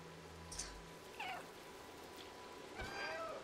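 A cat meows in the video game Stray. Three separate meows come clearly over a quiet game background, the last one longer and drawn out.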